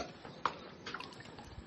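Water running into a tank, a faint, close trickle with scattered drips and splashes, one sharper splash early on, with no talk over it.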